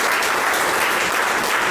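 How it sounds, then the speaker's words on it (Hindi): Audience applause at a live event in honour of a guest director, a steady dense clapping from many hands filling the whole moment without talk. "सर के अभिवादन के लिए एक तालियां जरूर चाहिए"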